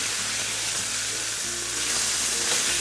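Pork chops searing in a hot pan give off a steady, loud sizzle with a constant hiss throughout and no pauses.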